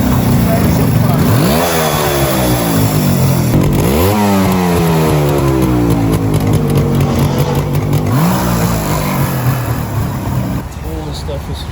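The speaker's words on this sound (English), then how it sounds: "That's just the wrong sound to come out of a road bike like this." An original road bike motorcycle engine revving loudly up close, with rising and falling pitch sweeps over a rough idle and someone talking over it.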